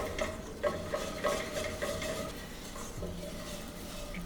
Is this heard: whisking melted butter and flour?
yes